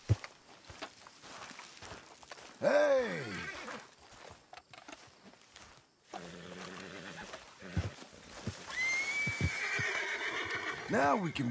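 A flaxen chestnut Hungarian Halfbred horse in a video game gives two loud, bright whinnies, one near the start and one near the end, with soft hoofbeats, game sounds and other noise between them.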